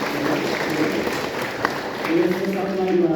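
A crowd at a community gathering in Papua New Guinea applauds a newly announced provincial president, continuous clapping with scattered cheers and voices running underneath.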